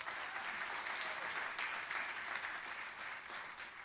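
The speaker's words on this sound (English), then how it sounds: "Give him another round of applause." Audience at a high school scholarship awards ceremony applauds, a steady wash of many hands clapping at a moderate distance, sustained throughout without pause.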